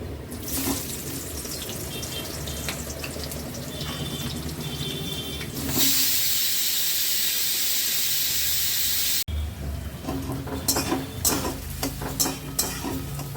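Onions drop into a hot pan of oil with a little sugar for a mutton meal, setting off a sudden loud, hissing sizzle that roars for a few seconds before settling into quieter frying and stirring clatter.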